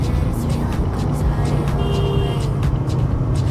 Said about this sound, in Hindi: गाड़ी आ रही है, लाइट जला के देखो तब भी दिख रहा है, पूरा फॉगी फॉगी हो रहा है